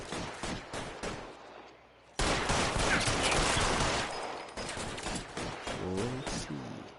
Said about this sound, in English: Déjame abrir fuego